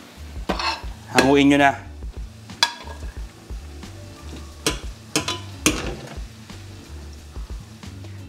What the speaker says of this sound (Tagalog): Kapag medyo naprito na tong carrots and potatoes, pwede na to.